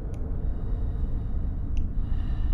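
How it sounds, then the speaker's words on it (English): Low, close breathing in a horror video game, a steady hiss-like breath sound under a dark rumble, with two brief high clicks. "That sounds like breathing behind your neck."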